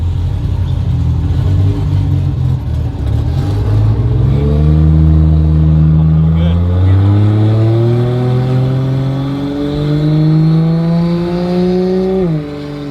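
A 1200 hp turbo Barra inline-6 Foxbody Mustang with side-exit exhaust pulling hard, its loud engine note rising through the gears in several sweeping climbs with a shift drop near the end, close and continuous with no talk.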